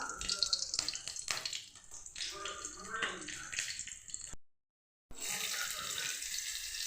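Cumin seeds and green chili sizzle in hot ghee with a bright, crackling hiss that cuts out briefly partway through, then resumes steadily, while a voice talks over it.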